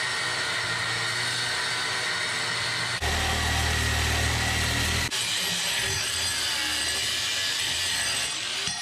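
A power saw cuts through a steel control arm bracket during a rear axle swap on a Jeep JK, with a loud continuous grinding whine that shifts in pitch partway through as the blade load changes, with no talk.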